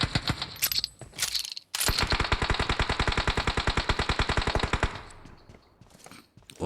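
Automatic gunfire in the video game PUBG Metro Royale, a long rapid burst of evenly spaced shots lasting about three seconds, preceded by a few short shots and trailing off into a faint ringing tail.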